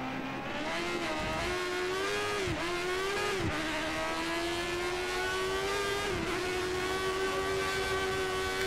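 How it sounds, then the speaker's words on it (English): A 1988-era Formula One car at the Spanish Grand Prix in the F1 2013 racing game holds a high, steady engine whine near full revs, with a few brief dips where the pitch drops and recovers. "We think the car behind is running on full revs."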